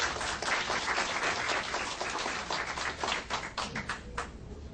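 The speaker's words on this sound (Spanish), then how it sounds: "le damos un aplauso" Steady audience applause fills a room at a legal panel discussion, dense and fairly close, with many hands clapping throughout before thinning slightly toward the end.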